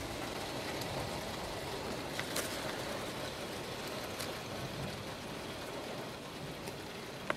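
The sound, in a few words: heavy rain falling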